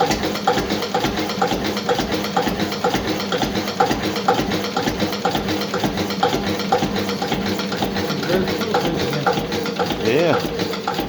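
A small homemade engine runs steadily at slow speed, a continuous mechanical chugging with a faint rhythmic pulse that carries on throughout, with voices talking nearby.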